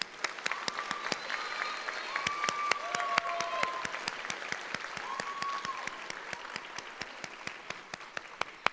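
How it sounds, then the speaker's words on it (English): A graduation audience at the Harlingen School of Health Professions 2021 ceremony claps in a sustained round of applause, dense sharp hand claps with a few cheers and whistles mixed in throughout. "You got them a round of applause."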